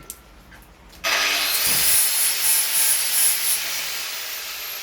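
A steel hammer face is ground on a 120 grit abrasive wheel, a sudden loud continuous rasping hiss that starts after a second of quiet and holds steady.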